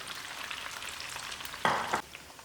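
Flour-breaded onion rings fry in hot oil, a steady crackling sizzle at moderate level with a sudden louder burst of bubbling partway through as more batter hits the oil, no voices.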